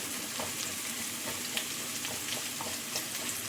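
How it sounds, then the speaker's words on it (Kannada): Sliced onions and fennel seeds fry in hot oil in a pan for a chicken gravy, a soft continuous sizzle with faint crackles and a few light scraping stirs, no voices. "ಇದು ಈರುಳ್ಳಿಯೊಟ್ಟಿಗೆ ಸ್ವಲ್ಪ ಫ್ರೈ ಆಗಬೇಕು."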